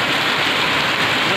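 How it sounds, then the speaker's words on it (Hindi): Heavy rain pours in West Bengal at a mining work camp, a loud, dense, unbroken hiss of water hitting surfaces up close with no break or voices. "देखिए बारिश कितना ज़बरदस्त बारिश मेरा वेस्ट बंगाल में हो रहा है।"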